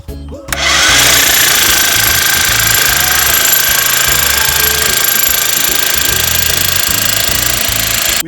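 A stainless steel grounding rod being driven into sandy soil, most likely with a hydraulic press, makes a loud continuous hammering drone that starts abruptly and holds steady with bright metallic ringing overtones.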